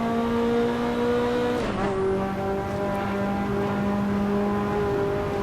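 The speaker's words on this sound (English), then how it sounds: "Back on flooring the gas. Foot hard down on the accelerator there." A Ferrari F40 in the Assetto Corsa racing game revs hard under full throttle, its loud, steady engine tone dropping with a gear change and then climbing again, with no one speaking.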